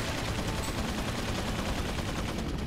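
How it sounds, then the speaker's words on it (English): Rapid turret gunfire in the Resident Evil 4 video game, a dense, continuous rattle of shots that stays loud and close throughout with no pauses. "I think there's a turret behind in front of me."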